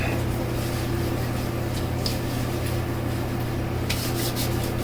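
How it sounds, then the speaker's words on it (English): Palms rub together steadily, spreading lotion across the hands before shaving, a continuous close, soft swishing friction over a constant room hum, with no pauses. "Rub it in my hands to pick up that Osage Rub."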